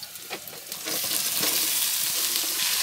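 Cabbage and beans frying in a pan, with a few scraping knocks at first and then a loud, dense sizzle that holds steady and close.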